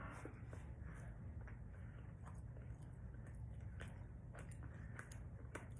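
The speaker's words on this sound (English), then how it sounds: "I'm still chewing this thing" Faint, close chewing of a tough jerk-seasoned steak, with soft repeated wet bites and squishes and no talking.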